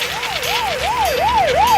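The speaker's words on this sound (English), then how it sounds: "How about the ambulance?" An ambulance siren wails in a steady rising-and-falling cycle, about five swoops, loud and continuous with traffic rumble underneath and no talking.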